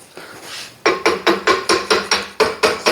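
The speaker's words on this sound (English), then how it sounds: "Can I just beat the shit out of it with a hammer?" A hammer strikes a jogger shaft in a series of about nine loud, sharp metallic blows at a steady rhythm, close by, after a brief quiet start.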